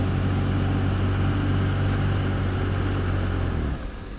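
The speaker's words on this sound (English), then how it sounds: "A loud blowing motor." A blower motor in a 2011 BMW 740Li with a 3.0 engine whirs steadily and loudly as a broad, even rush for several seconds, then cuts off abruptly near the end.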